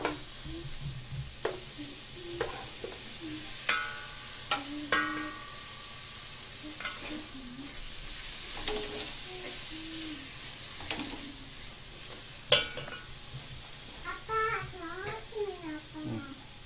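Masala with chopped tomatoes frying in a pan for Dindigul Thalapakattu chicken biryani, a soft steady sizzle with occasional stirring scrapes while a person talks over it.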